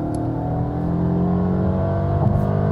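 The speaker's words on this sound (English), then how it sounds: "And the sound was actually quite decent, and you see also the acceleration is quite decent, so this 4-cylinder engine does give us some nice performance" A Mercedes four-cylinder engine with all-wheel drive accelerates hard in sports mode, a steady, loud rising engine drone from inside the car throughout.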